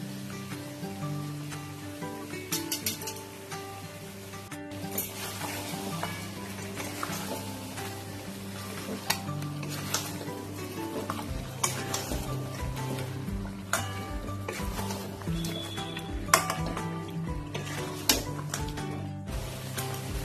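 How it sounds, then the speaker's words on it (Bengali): Mutton frying in oil for rezala sizzles loudly and continuously, with crackling pops and clicks as a paste of cashew, poppy seed and almond is stirred into the pan. "দেখো কাজু বাদাম পোস্ত আলমন্ডের পেস্টটা আমি দিয়ে দেবো"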